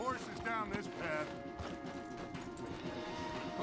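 Horses' hooves clip-clopping in Red Dead Redemption 2 as riders move along a wooded trail, a steady near patter under a busy game soundscape with voices, creaks and tack noise.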